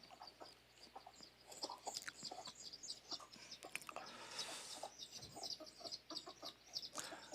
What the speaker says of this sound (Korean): 닭과 뱀이랑 싸우는 건데